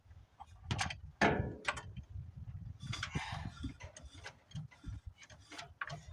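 The locked-up engine of a 1978 Dodge D-200 pickup is forced to turn over, giving irregular mechanical clunks, creaks and ratcheting knocks at close range, uneven and halting rather than a smooth rotation.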